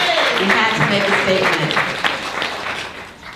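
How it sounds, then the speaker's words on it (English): Audience applause at an International Women's Day conference, with dense clapping throughout and a few voices calling out over it before it thins toward the end. "I really need a louder applause"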